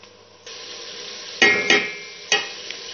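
Onions with garlic paste frying in a pan for kadhi pakora, a steady soft sizzle broken by three sharp stirring scrapes, close and without talk.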